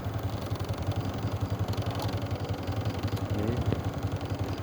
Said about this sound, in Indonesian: Ini posisi hidup mesin ya